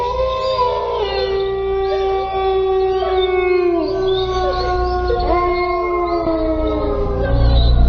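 Several dogs howl together at night, long rising and falling wails layered over one another, steady and fairly loud throughout with a constant low background hum and no talking.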